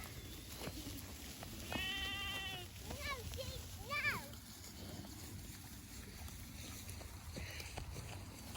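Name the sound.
sheep bleating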